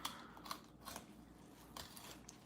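Kitchen shears snip through the belly of a fish during cleaning, giving a few short crunchy cuts spread across the moment, fairly faint and close, with no talking.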